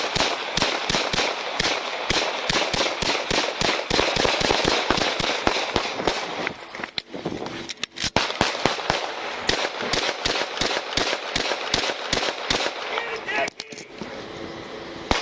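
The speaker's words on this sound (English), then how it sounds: "shots fired" A long, dense volley of sharp gunshots rings out during a police confrontation. The rapid, irregular cracks continue almost without pause for about fifteen seconds, with only a brief lull partway through.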